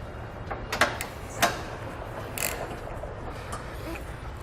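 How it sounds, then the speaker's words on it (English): Ratchet wrench with an 18mm socket turning trailer hitch bolts on a 2009 Volkswagen, heard as a few brief clicking bursts and scrapes over a low steady background hum. "Now these first 2 are going to be an 18mm socket."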